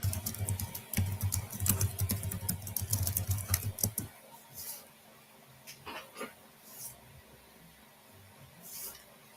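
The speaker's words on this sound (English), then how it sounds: "And she's typing" Rapid clicking of keys on a computer keyboard for about four seconds, then a few scattered faint taps in a quiet room.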